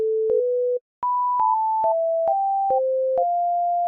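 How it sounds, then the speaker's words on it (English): A synthesizer plays a short run of pure sine-wave notes, seven or eight clean, smooth tones at different pitches, each starting with a soft click and separated by brief gaps, alone and without any voice. "So a sine wave is a pure tone."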